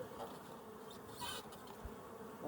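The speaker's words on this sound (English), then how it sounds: "A lot of bees up in here too." A steady, dense buzzing of many bees fills the clip, close and continuous with slight swells in intensity.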